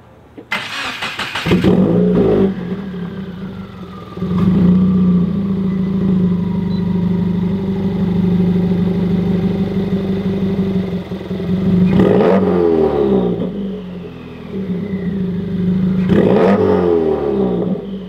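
A Subaru WRX fitted with an equal length header and catless J-pipe revs loudly and close by, its engine holding a steady idle between several sharp throttle blips and rising revs.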